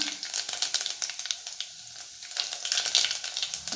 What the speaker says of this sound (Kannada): ನಾನು ಜೀರಿಗೆ ಹಾಕತ್ತೇನೆ 1 ಸ್ಪೂನು